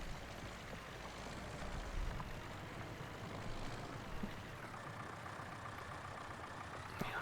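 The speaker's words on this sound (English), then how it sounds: "smoothest running engine from the sound of it, but gets the job done." A rough-running farm vehicle engine in Farming Simulator 19 drones steadily at moderate distance, a low continuous rumble with slight fluctuations and a faint click near the end.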